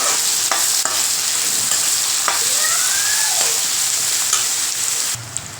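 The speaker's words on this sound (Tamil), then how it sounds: "வெங்காயம் பூண்டு கருவேப்பிலை நல்லா வதங்கிடுச்சுங்க" Onion, garlic and curry leaves sauté in oil for a garlic kuzhambu, producing a loud, continuous, close sizzle with a few scraping stirs and no voices.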